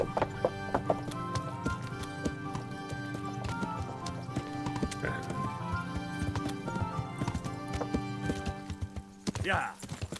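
Horse hooves clip-clop in a steady rhythm in the medieval game Kingdom Come: Deliverance, with a whinny near the end, all under game music and a voice talking over it.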